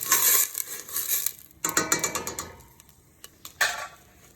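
Food being stirred in a metal pot, with repeated scraping and clinking of a utensil against the sides in short bursts, loud at the start, then sparser taps and a final clatter.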